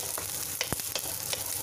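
White parts of spring onion sautéing in a hot pan, a loud continuous sizzle with brief scraping stirs and a sharp knock partway through, close and without voices.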